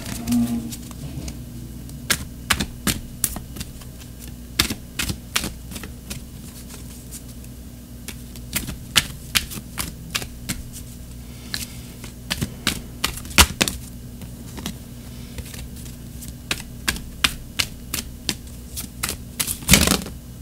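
Tarot cards being shuffled and handled at a reading, quick dry riffling and tapping clicks in irregular bursts, close and fairly quiet, with no speech.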